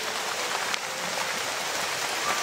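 Rain falling steadily, a dense close hiss of drops on surfaces with no pauses or voices.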